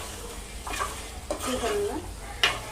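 Mutton added to a hot pan sizzles steadily in oil while a utensil stirs and scrapes through it in a few strokes, close and clear, with a brief spoken word near the end.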